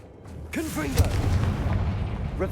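A blasting-spell explosion from Hogwarts Legacy erupts with a sharp crack, then a sustained rumbling roar, while a voice calls out over the start of the blast.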